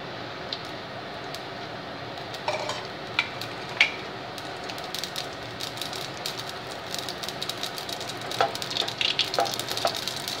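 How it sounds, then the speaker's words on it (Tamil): Half a teaspoon of mustard seeds frying in hot oil, a constant close sizzle broken by scattered sharp pops and crackles that grow denser toward the end, with no speech. "1/2 டீஸ்பூன் கடுகு போட்டுடலாம், எண்ணெய் காயட்டும்."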